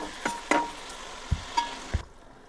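Onions fry in a pan with a little salt as the base for an Andhra-style fish curry with okra. A soft, continuous sizzle runs under several distinct clinks and scrapes of stirring, and there is no talking.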